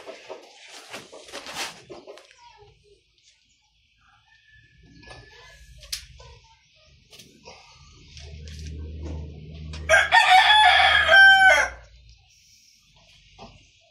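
A native chicken rooster crows loudly and close by in one strong call, preceded by scattered clucks and short bird calls, with quiet background sounds between.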